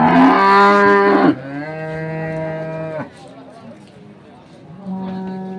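At a cattle market in Dinajpur, Bangladesh, a dairy cow lets out a long, loud moo nearby, followed by lower, sustained lowing calls with brief pauses and faint background noise.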